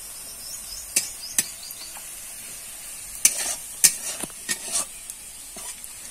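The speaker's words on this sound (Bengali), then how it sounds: "তো এখানে মাছের ঝাল রান্না করছে।" Spicy fish curry (macher jhal) cooking in a pan: a soft steady sizzle with sharp scraping stirs and clinks against the pan, irregular and close, no talking.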